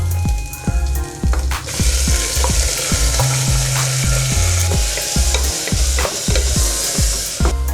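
Ground onion paste frying in a pan, a loud continuous sizzle broken by rhythmic scraping strokes of a spoon stirring close up, with no talking.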